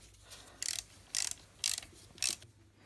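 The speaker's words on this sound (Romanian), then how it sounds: "Strângem cele două piulițe cu 8." Four short metallic ratcheting bursts, evenly spaced, as an 8 mm wrench tightens two nuts on a Stihl MS 170/180 chainsaw engine during cylinder and piston assembly; close and crisp, with quiet pauses between.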